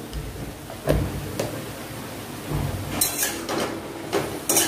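Metal clinks and scrapes of a utensil stirring cumin powder into chicken in a pan, sharp knocks coming irregularly with a few louder clatters near the end, alone without talk.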